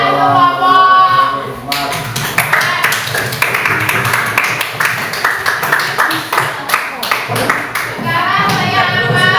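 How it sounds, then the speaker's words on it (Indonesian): Middle school students in a classroom applaud a student group with a dense burst of clapping that lasts several seconds, loud and close, between stretches of a teacher talking. "beri tepuk tangan untuk kelompok."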